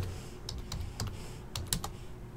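Quick bursts of typing on a computer keyboard, irregular clusters of keystrokes spaced through a couple of seconds, moderately close with a low background rumble and no speech.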